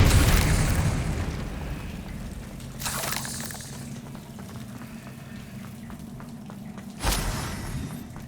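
Spell blasts from Bombarda and Confringo in Hogwarts Legacy: a loud burst at the start fading into a rumbling boil, a second hit near the three-second mark, and a sharp final bang, with no voices.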